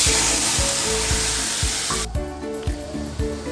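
Ginger, coriander and green chili paste frying in a pan, a loud steady sizzle that is cut off sharply about two seconds in and then drops to a quieter crackle, with rhythmic low thumps throughout.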